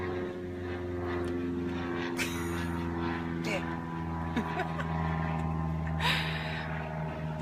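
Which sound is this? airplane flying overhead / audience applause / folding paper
airplane flying overhead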